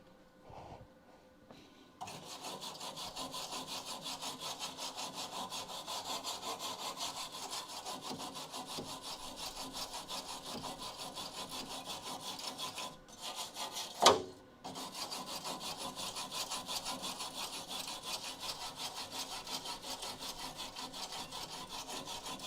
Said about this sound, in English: Trying to go find my wire brush.